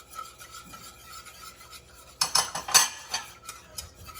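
A spoon scrapes and clinks against a pot while stirring egg custard for a French dessert, quiet rubbing at first, then a louder burst of metallic scraping strokes in the middle, alone without talk.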